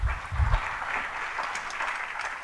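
A church congregation claps during a sermon, a moderate wash of applause with a few low thumps at the start, steady and somewhat distant.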